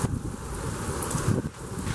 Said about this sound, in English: But this is really windy.